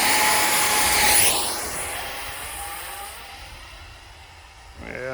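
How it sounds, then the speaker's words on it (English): An X-Fly Su-27 RC model jet screams at full throttle, a loud whine that fades as it flies away into the distance, with a brief louder rush at the very end. "So full throttle, and we're going."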